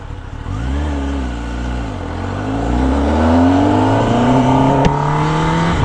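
A Kawasaki ZX-10R sportbike engine revs up hard and accelerates, its loud, close whine climbing steadily in pitch over several seconds with a brief dip before the rise.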